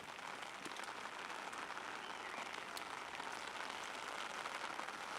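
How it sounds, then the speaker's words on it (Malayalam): Steady rain falls in Delhi with a constant dense hiss throughout, no pauses, fairly even in loudness and without voices. "ഇപ്പോൾ ഇവിടെ ദില്ലിയിലും നല്ല മഴയാണ്"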